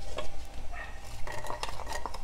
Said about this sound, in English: I'm gonna start with frying some onion with some olive oil.